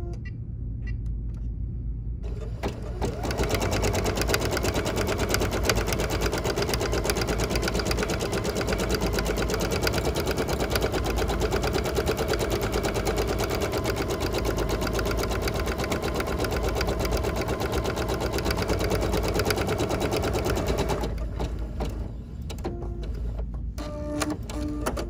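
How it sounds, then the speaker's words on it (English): An embroidery machine stitches continuously at a fast, steady mechanical rhythm for about eighteen seconds, then slows and stops, with lighter clicks and motor whir at the start and end. "with this machine, it's gonna stitch a few stitches and then it's gonna stop to cut a tail"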